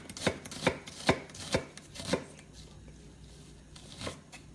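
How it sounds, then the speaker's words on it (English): A knife julienning an onion on a cutting board, five crisp evenly spaced chops followed by a pause and a last cut, close up and clear over faint background. "the onion will fall apart for you when you julienne it"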